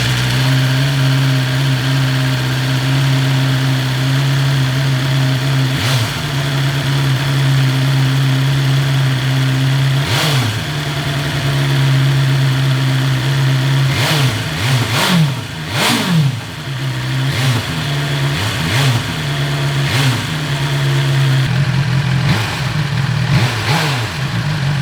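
Second-generation BMW S1000XR motorcycle engine idling steadily close by, with several sharp throttle blips spread through the clip, a few clustered close together near the middle, each rising and dropping quickly back to idle.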